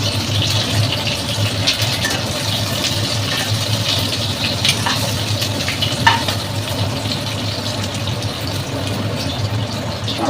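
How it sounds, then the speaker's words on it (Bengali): Potatoes fry in a pan with a continuous, even sizzle and crackle at moderate closeness, holding steady with faint occasional clicks and no speech. "একবারে দিয়ে দিয়েছি ভাজা করতে।"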